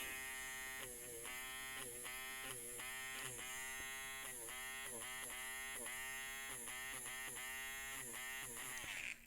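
An eraser works over a kitty drawing, giving a close, steady motorized buzz that dips and surges in rapid repeated strokes throughout.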